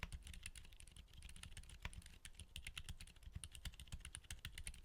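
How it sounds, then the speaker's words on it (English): Rapid typing on a keyboard fitted with Gazzew Bobagum switches, a steady run of crisp, close keystrokes with no talking. "Now, here's the sound test."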